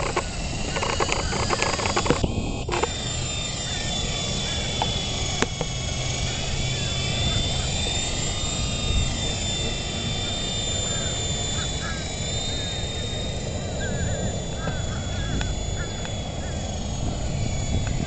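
A radio-controlled model helicopter flying outdoors, its steady rotor whine and motor buzz running continuously under people talking nearby, with a couple of brief knocks early on.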